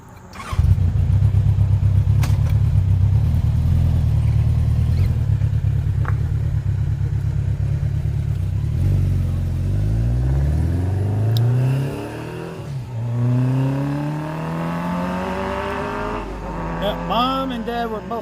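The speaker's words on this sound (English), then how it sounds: "He's going to slow down the car that's coming." A car approaches on a road during a motorcycle rally in the Smoky Mountains, its engine droning loud and steady, then the pitch sweeps as it passes close by and fades, with more engine revving rising near the end.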